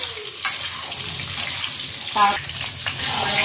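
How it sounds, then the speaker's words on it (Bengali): Potatoes fry in a pan for a vegetarian home-cooked dish, giving a steady bright sizzling hiss with a few brief clatters and a short tonal sound partway through. "এবার এটাকে ভেজে নিচ্ছি, এখানে অর্ধেক ভাজা হয়ে গেছে"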